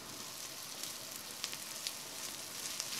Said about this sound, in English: fry them together with the onions for a minute